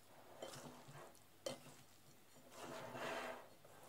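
Shrimp samosa filling with soy sauce being stirred in a bowl, giving soft scraping and mixing strokes in a few bursts, close and fairly quiet, with one sharper knock partway through.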